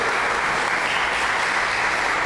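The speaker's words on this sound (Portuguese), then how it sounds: "Vamos dar um aplauso forte a eles." A church congregation applauds, dense steady clapping from many hands filling the room for a couple of seconds without talk.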